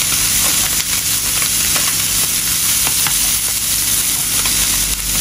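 Vegetables dry-frying in a pan, a loud, steady sizzle with constant hiss and occasional stirring scrapes running the whole time, no voices.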